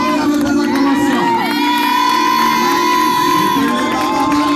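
Worshippers at a French-language church service cheer, whoop and shout acclamations together as a loud, sustained crowd roar with some high children's voices mixed in.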